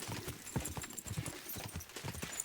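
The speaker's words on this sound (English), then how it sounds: "So nice having a horse." Horse hooves clip-clop at a steady walking rhythm in Kingdom Come: Deliverance II, a string of soft, close thuds over faint ambience.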